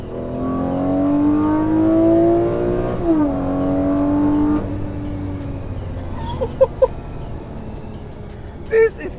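A Lamborghini Aventador V12 revs up, a loud rising engine tone that climbs, dips and climbs again before settling, followed by a few short sharp sounds near the end.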